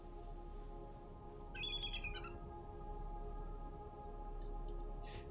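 Bird squawking on an island, a burst of harsh, buzzy calls in the middle of a steady hum, with fainter chirps near the start and end.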